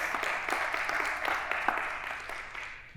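An audience at a corporate Breaking Barriers event claps in a steady patter of many hands, fairly close, fading gradually toward the end.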